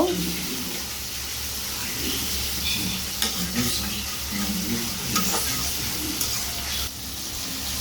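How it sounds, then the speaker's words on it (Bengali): Spice paste stir-fried in hot oil in a pan, a steady low sizzle with occasional faint stirring clicks running throughout at moderate level. "আমি মশলাটাকে ভালো করে কষিয়ে নিচ্ছি যতক্ষণ পর্যন্ত আমার তেল না উঠে উপর দিয়ে"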